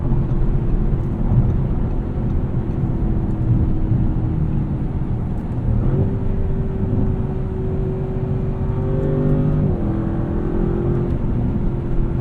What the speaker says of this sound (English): But you rev this engine out and it pulls like crazy.